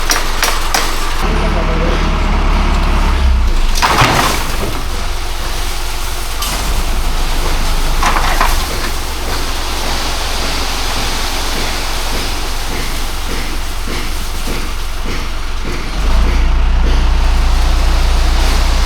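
A truck delivering tiles to a house, its engine rumbling steadily and loudly throughout, with broadband road and engine noise swelling slightly near the start and end.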